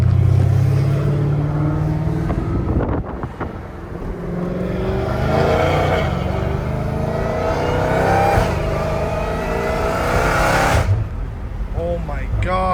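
A Dodge Hellcat Redeye fitted with a titanium exhaust accelerates hard, its engine roaring loudly and steadily close by, with brief lifts between pulls while someone talks over it.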